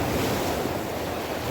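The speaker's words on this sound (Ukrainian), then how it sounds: "Прийшли хвилі." Waves break and surge loudly nearby in a continuous roar, with wind buffeting the microphone.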